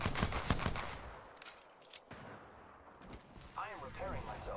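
Rapid gunfire crackles in the Apex Legends video game, a burst of close automatic shots at the start followed by scattered distant reports, while a player talks over it.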